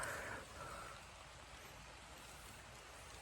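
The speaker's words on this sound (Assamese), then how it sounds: "বৰষুণ এতিয়া স্পীডে আহিছে" Heavy rain falls steadily around a raised hut during an overnight stay, a constant soft hiss of water with no distinct drops. It is faint and even and no voices are heard.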